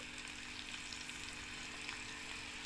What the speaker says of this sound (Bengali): এখন আমি এগুলা দিয়ে দিচ্ছি দেখুন আমার তেলটা গরম হয়ে আসছে